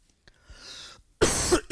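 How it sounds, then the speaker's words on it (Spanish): Several coughs from people in a room, a quieter scattered stretch followed by a loud, dense burst of coughing near the end. "hoy hay una sinfonía de tos por aquí"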